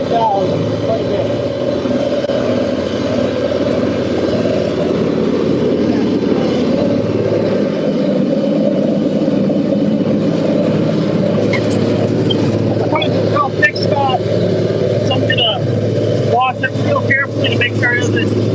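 A Farmall 826 tractor pulls a JD 348 hay baler through a Wisconsin hay field in the evening, a loud, steady engine drone with mechanical clatter and knocks growing more frequent toward the end.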